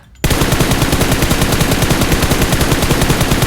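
Sustained automatic rifle fire in the PUBG Mobile battle royale game, a rapid, evenly spaced burst of loud, close shots that bursts in abruptly after a brief quiet moment and continues without pause.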